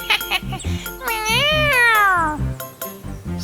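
A cat lets out one long, drawn-out meow, rising then falling, between shorter bursts of other sounds, loud and close.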